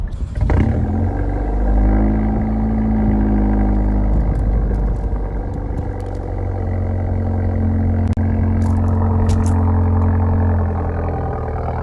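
A Hyundai Veloster N with its muffler deleted rumbles loudly and steadily, a deep droning exhaust note that swells slightly as revs change, with no talking over it.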